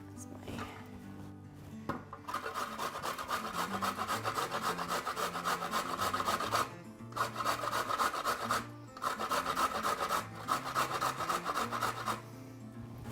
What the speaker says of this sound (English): grate up a little bit of carrot and some ginger to add to the mix